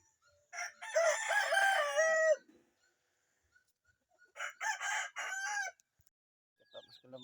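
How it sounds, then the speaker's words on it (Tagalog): A rooster crows loudly nearby, a long drawn-out call, followed by a second crow after a pause, with quiet in between. "Papakain ako ng mga manok"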